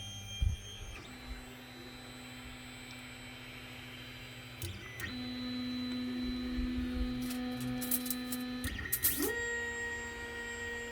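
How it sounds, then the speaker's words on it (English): A Creality Ender 5 Plus 3D printer homing its axes, stepper motors whining and buzzing at shifting pitches, with a few clicks and a steady mechanical hum throughout. "and then you're going to home in on your printer."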